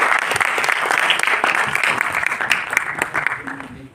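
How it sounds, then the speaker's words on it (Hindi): Loud, dense applause from students at an NSS seven-day camp valedictory function welcoming a speaker to the stage, steady for a few seconds and then tapering off at the end. "जोरदार तालियों से स्वागत कीजिए।"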